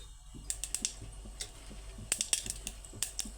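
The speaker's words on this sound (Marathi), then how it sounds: "तेल इथे छान असं गरम झालेलं आहे याच्यामध्ये मोहरी टाकून घेऊयात तर मोहरी छान अशी फुलू द्यायची आहे आपल्याला" Mustard seeds dropped into hot oil pop and splutter in sharp, scattered crackles, a quick series of bright ticks over a low background hum, fairly close and with no talk.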